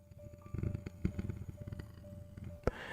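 A voice imitates a cat's purr with a soft, low, rumbling series of breathy pulses, quiet and close.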